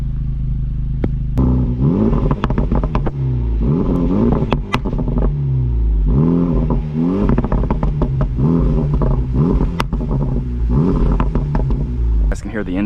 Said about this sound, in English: So let's do some exhaust.